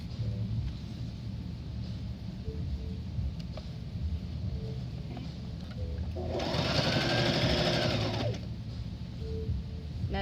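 A sewing machine runs in a steady burst of a couple of seconds, stitching bias binding onto a garment bodice, loud against a low background rumble.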